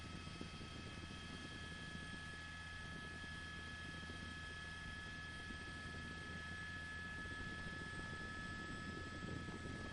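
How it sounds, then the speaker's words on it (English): Police helicopter hovering overhead during a Los Angeles car chase, a steady continuous rotor and engine drone with a constant whine, even and sustained throughout. "They have the helicopter overhead."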